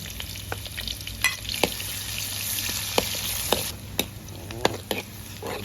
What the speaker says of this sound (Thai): น้ำมันร้อนแล้วใส่หอมหมูใหญ่ลงไปก่อน